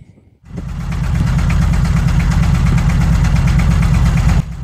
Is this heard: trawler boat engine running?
yes